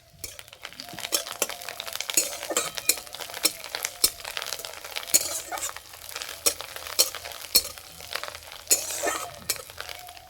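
Sesame seeds, red chili and chopped coriander fry in a little white oil in a wok, giving a steady crackling sizzle with sharp pops and clinks of a spoon stirring throughout.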